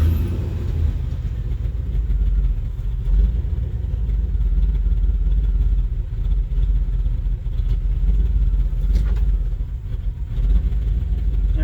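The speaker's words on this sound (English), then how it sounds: "There's that idle I was talking about." A TBI (throttle body injection) engine with a running problem idles steadily and up close, a low rumbling drone that holds without breaks, with no talking.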